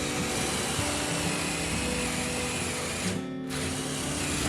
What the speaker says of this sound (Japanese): ドリルで穴を開け、